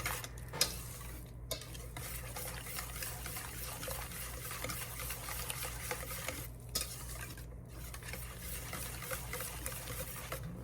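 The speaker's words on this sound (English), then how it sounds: "Mix it with the whisk a little bit." A whisk stirring malai kulfi mixture in a bowl, a continuous close scraping and swishing with a few brief clinks, quiet and without speech.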